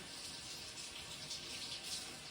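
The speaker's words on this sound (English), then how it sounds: "So let me rinse them under the water, like we've been doing." Tap water runs steadily over plants being rinsed in a sink, a continuous close hiss and splash with no talking.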